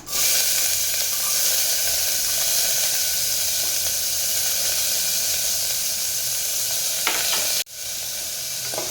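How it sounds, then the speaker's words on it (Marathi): Chopped onion sautés in hot oil with cumin and curry leaves for a sprouted mung and drumstick vegetable dish, a loud, continuous hissing sizzle with stirring that cuts off abruptly near the end. "कांदा सुद्धा छान परतून घ्यायचा आहे"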